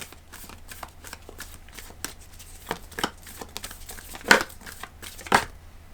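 Tarot cards being shuffled and drawn, a run of soft close papery riffles and flicks with a couple of sharper card snaps near the end.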